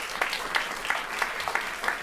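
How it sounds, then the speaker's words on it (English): A small audience at a farmland protection event claps to welcome a speaker, a brief, fairly quiet patter of a few hands in a loose, regular rhythm lasting about two seconds. "Round of applause for Klaas."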